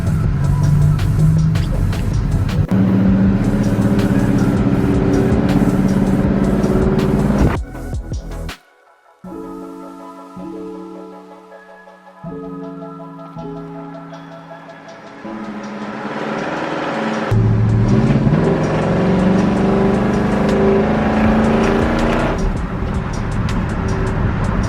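A 1972 Oldsmobile 442 runs steadily with a loud, sustained engine drone. The sound drops to a brief quiet stretch with tonal hums, then the engine returns strongly.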